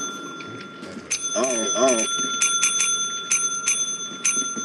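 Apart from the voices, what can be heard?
bell being hit in the video game Lethal Company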